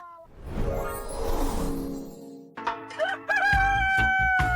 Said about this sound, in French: Je hais ce coq.